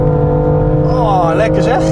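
A 2018 BMW M2 Competition engine revs hard as the car accelerates through the gears, loud and close with a rising then shifting pitch, and a voice talks over it.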